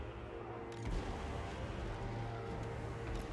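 Distant cannon artillery fire in Total War: Warhammer 2, a low rumbling battlefield wash with a few dull booms rising out of continuous roaring noise, no voices.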